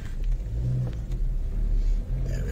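A car pulls out of a car park in Motril, its engine rumbling low and revving briefly as it moves off, close by and with no voices.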